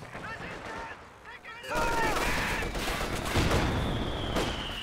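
Heavy mortar barrage with 120 mm shells in the video game Company of Heroes 2, a quiet stretch of battle noise followed by a sudden run of loud, rapid blasts and gunfire.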